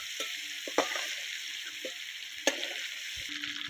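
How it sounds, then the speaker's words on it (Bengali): Prawns frying lightly in oil, a constant close sizzle with a couple of sharp utensil clinks and some soft bubbling, no voices. "হালকা করে ভেজে নেব, চিংড়ি বেশি ভাজতে লাগে না"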